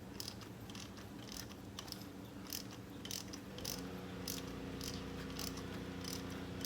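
A ratchet socket wrench with an extension and 14mm spark plug socket clicks rapidly and steadily while loosening car spark plugs, a faint repeated pawl ticking over low mechanical hum, with no talking.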